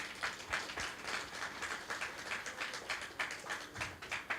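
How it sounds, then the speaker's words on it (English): An audience applauds student performers at a silver jubilee celebration of BPFTIO in Odisha. The clapping is faint and distant, with a steady ripple of many hands that rises and falls slightly throughout. "can we have a huge round of applause for them?"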